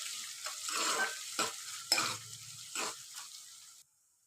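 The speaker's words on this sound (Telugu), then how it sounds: "చూడండి ఇప్పుడైతే మంచిగా ఇట్లా ఫ్రై అయితే చేసుకోవాలి ఆనియన్స్" Sliced onions fry with curry leaves in a pan, a soft sizzle broken up by several scraping stirs of a spoon, heard close and alone.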